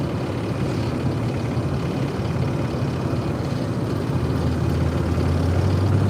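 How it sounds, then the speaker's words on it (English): Steady low road rumble from a moving car, with a constant engine drone and faint rattling running throughout, no talking. "The car is rattling."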